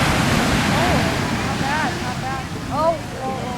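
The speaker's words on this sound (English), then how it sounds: "the waves are big" Big ocean waves break along the North Shore, a steady broadband roar of surf and wind noise filling the whole clip, while faint voices talk in the background.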